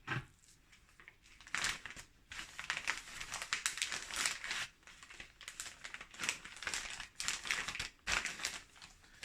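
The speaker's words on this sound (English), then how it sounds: "Okay, so into the bag and then sealed." Raw Chateaubriand beef being placed into a plastic bag and sealed for cooking, heard as close, bursty plastic crinkling and crumpling in repeated rustling waves with no talking.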